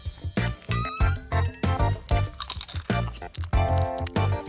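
Repeated crisp bites into a Kit Kat chocolate wafer give sharp, close crunching bursts in a steady rhythm of bite and pause, with bright crackly texture and no talking.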